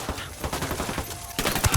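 Rapid gunfire in the tactical shooter Ghost Recon Wildlands, a close, dense volley of overlapping shots that swells into a louder burst at the end.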